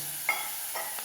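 Water is poured into a curry of pappadam and egg sizzling in a pan, giving a hissing, crackling burst with a couple of softer sizzles after it, close and fairly quiet with steady background noise.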